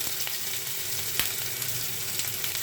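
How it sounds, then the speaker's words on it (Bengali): Onion, garlic, dried chili and panch phoron crackle in hot oil, a steady dense sizzle with a few sharper pops, fairly close and with no voices. "তেল দিয়ে দিচ্ছি এখন আমি বাগার দিব"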